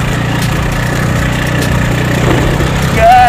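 A scooty's engine running steadily on an off-road test ride over a rough road, a loud close low hum with rattling vibration that rises slightly at the end.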